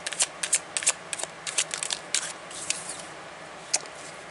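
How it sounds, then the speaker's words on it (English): Tarot cards being shuffled and pulled from the deck, a series of crisp papery riffles and flicks in quick bursts, then sparser single snaps, close and fairly quiet with no talking. "Let's pull some cards, and let's see what we can come up with"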